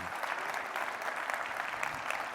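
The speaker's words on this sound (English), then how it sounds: "Can we give a round of applause to John for an amazing panel?" A conference audience applauds a panel at a general session on cities and global leadership, a continuous, moderately loud wash of many hands clapping at a fairly even level.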